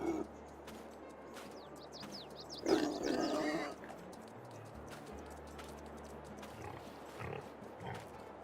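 Pigs in the farming video game Farming Simulator 22 grunt and snort intermittently against steady outdoor ambience with birdsong, one louder burst of grunting standing out midway.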